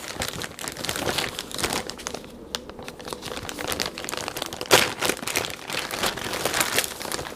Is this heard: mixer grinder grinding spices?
no